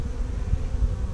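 Close, steady buzzing of honey bees at an opened hive, a low continuous drone with no voices.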